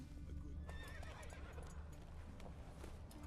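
Horse hooves clip-clop at a steady riding gait in the Witcher 3 video game, out near Novigrad, with a horse whinny, all over a constant low ambient game soundtrack.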